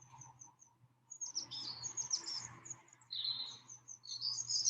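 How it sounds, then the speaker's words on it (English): Birds sing outdoors in a garden, bright chirps and trilling phrases coming in bursts from a moderate distance over a faint low hum, with no one talking. "hopefully you can hear the bird song there."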